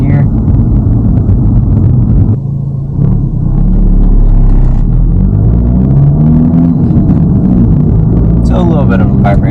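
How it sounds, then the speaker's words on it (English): A manual VW Mk8 GTI engine lugs at about 1500 RPM in third gear, a deep droning rumble inside the cabin with someone talking over it. "A little bit of noise when you're lugging it, right? Like right there I was about 1500 RPM in third gear."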